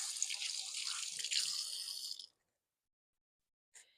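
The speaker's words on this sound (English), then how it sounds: "Let me just rinse my hands real quick." A kitchen tap runs as hands are rinsed beneath it, a close splashing water stream lasting about two seconds before cutting off, followed by silence and a brief final trickle or clink.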